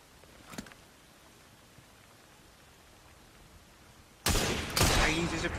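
Gunshots in Assassin's Creed Syndicate as bottles are shot at, a brief crack early on, then a loud burst of sharp shots near the end after a quiet stretch with faint background noise.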